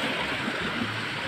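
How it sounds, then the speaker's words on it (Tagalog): Rough sea waves on a fishing coast churn as a steady, loud broadband wash of surf and water, continuous throughout with no pauses and no voices. "parang nagagalit yung dagat natin"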